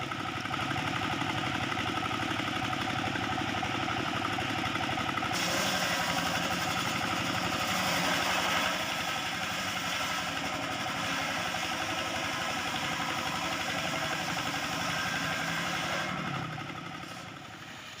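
A homemade portable wood-splitting sawmill engine idles steadily at a constant rhythm, loud and close throughout, with a slight change in tone partway through before it fades at the end.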